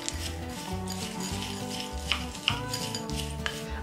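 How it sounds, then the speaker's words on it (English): Sunflower, pumpkin and chia seeds being stirred in a bowl for whole wheat seeded sourdough sandwich bread, a steady close scraping rustle with a few sharp clinks, no talking. "And give that a good stir."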